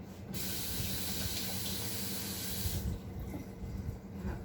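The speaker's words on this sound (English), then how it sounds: "Wash them, but leave a little bit of water on there because it helps with molding them." Hands are rinsed under a running kitchen tap while baking, a steady close splashing hiss of water that continues throughout and eases slightly toward the end, with no talk.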